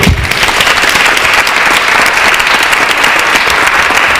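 Audience applause at a live event, a dense sustained burst of many hands clapping loudly and evenly for the full length with no voices on top.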